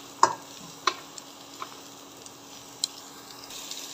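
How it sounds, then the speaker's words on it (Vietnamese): Lemongrass and ginger stir-fry in a pan with a soft steady sizzle, broken by a few sharp scraping clicks of the spatula against the pan. "Mình cho mấy cái xả xanh xanh này vô mình xào"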